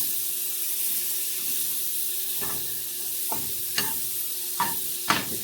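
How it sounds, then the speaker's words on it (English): Butter sizzling in a pan on low heat for a Cajun grilled cheese, a steady soft frying hiss broken by a few short scraping stirs toward the end, with no one talking. "So now I'll put a little bit more butter in there."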